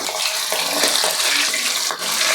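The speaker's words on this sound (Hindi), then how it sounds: "अब एक एक पीसेस डाल करके हम फ्राई कर लेंगे।" Pieces of singhada fish fry in hot mustard oil, producing a dense, loud, continuous crackling sizzle throughout with no voices.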